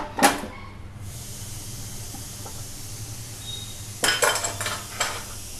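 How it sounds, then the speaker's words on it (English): A pressure cooker of veg dum biryani is opened with a sharp metallic clank of the lid, then a low, quiet hiss, and later a short burst of clattering metal knocks nearby, with no talking. "Now open the lid of the pressure cooker."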